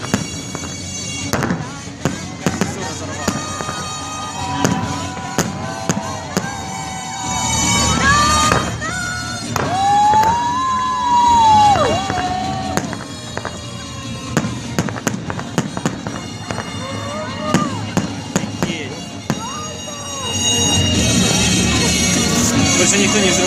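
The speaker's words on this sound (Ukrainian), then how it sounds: "Больше никто не взрывает салюты, потому что здесь смотрят, как здесь взрывают." New Year fireworks burst over the Yalta embankment in a dense string of loud booms and crackles, with whistling rockets climbing between blasts and people talking in the crowd.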